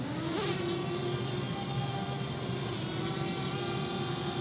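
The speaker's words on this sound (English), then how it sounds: "And just like that, I launched the drone." A DJI Mavic Air drone lifts off under gesture control, its propellers giving a steady, close, high-pitched buzzing whine that rises in pitch at takeoff and then holds evenly.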